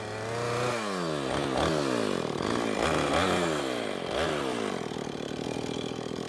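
A chainsaw rips lengthwise through wood. It roars close and loud throughout, the engine pitch sweeping up and down in repeated surges as the bar bites into the cut.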